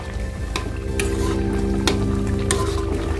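Rajma curry bubbles in a pot under a constant low sizzle, with several sharp clinks and scrapes as a spoon stirs it, close and fairly loud, with no voices.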